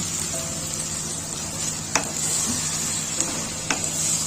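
Steady, close frying sizzle from a pan of banana flower ghonto after water is added, with a few faint clicks of a utensil against the pan.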